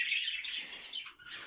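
Birds calling among nesting pairs, including a stone curlew, sitting on eggs: a steady, close stream of overlapping chirps and tweets that continues without a break.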